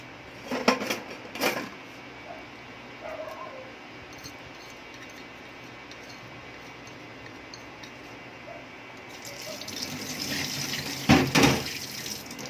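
Kitchen tap water runs while freshly grated turmeric is washed off hands, a soft steady stream with brief splashes, rising louder near the end, with a little talk in the background.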